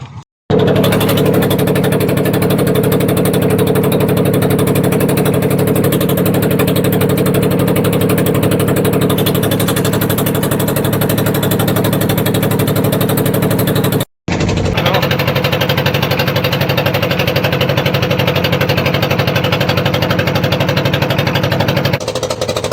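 A trawler boat's engine runs while crossing the Shitalakshya River at Narayanganj, a loud, steady close-up drone with an even mechanical buzz that briefly cuts out midway before resuming just as strong.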